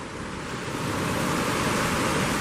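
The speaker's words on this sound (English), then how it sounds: "Now there's a massive amount of water coming, and there's a massive amount of water pushing out." A massive volume of water rushing through the St Lucia estuary mouth produces a loud, dense, continuous roar, with no voices.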